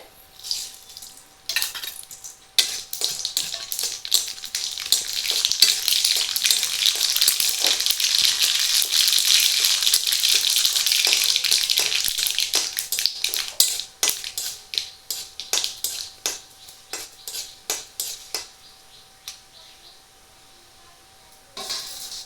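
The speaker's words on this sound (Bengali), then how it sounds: "সর্ষেটা আমি ভেজে নিয়েছি" Mustard seeds fry in a pan with chilli, onion and leaves for a pineapple and sesame sour dish, a close crackling sizzle that swells to a dense hiss midway, then breaks into scattered pops and fades.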